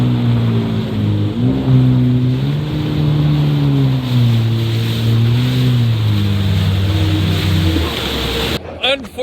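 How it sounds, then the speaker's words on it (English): A jet ski engine on the sea drones loudly and close, its pitch wavering up and down with throttle over choppy water, then cuts out near the end to wind and splashing. "We're going out jet skiing."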